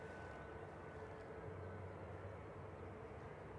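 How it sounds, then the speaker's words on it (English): An Airbus A321 Classic arriving from Barcelona at Manchester Airport, its engines a faint, steady, distant jet roar under a low rumble throughout. "Has it got Iron Man thrust reversers?"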